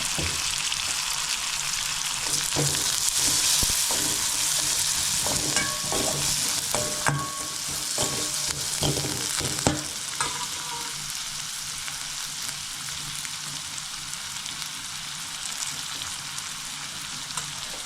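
Onions with coriander powder frying in a pan for Malnad-style pathrode give a steady, close sizzle throughout. Intermittent scraping and stirring clicks break through the frying, with no talk.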